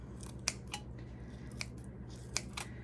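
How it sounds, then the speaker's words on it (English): Scissors snip through bacon four times, crisp clicks spaced unevenly against a steady low background hum, fairly close and quiet. "Got my scissors again. We're just gonna cut this right on top of this one."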